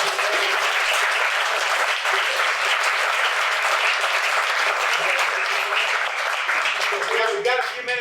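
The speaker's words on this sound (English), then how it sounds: "How about a big round of applause?" Applause from a business audience at an AI talk, a dense sustained clapping that fills the room loud and steady throughout, with a few scattered voices rising near the end.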